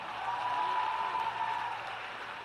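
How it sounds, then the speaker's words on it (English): Large crowd applauding at a high school graduation ceremony, a steady, distant wash of clapping that holds evenly with no clear individual claps. "Give him a hand, give him a big round of applause."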